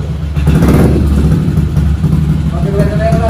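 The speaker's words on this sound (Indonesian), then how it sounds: "Nyalain dong motornya." Modified Yamaha Aerox motor scooter with full carbon Kevlar body revving loudly and continuously up close, engine roar steady throughout with people talking over it.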